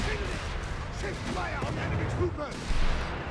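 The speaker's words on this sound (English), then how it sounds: "the heavy mortar" Heavy mortar fire in the Company of Heroes 3 strategy game, with booming battlefield blasts and rumbling low-end impacts running continuously under game-commentary talk.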